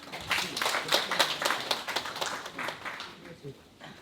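Light, fairly distant clapping from a small audience at a Buddhist testimony gathering in Jeju, a few seconds of uneven claps that thin out toward the end.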